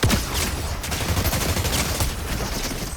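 Rapid bursts of video game gunfire from a player hip firing, loud and continuous, sounding like a sustained automatic fusillade with no talk over it.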